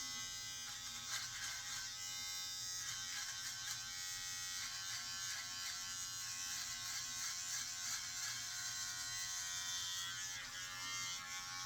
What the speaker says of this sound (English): when I get done with the whole beard, I'll go back and shave all this short stuff that this doesn't get